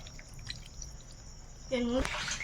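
Water pours briefly into a freshly washed cooking pot in a home kitchen, a short rising gush near the end over a quiet background with faint voices.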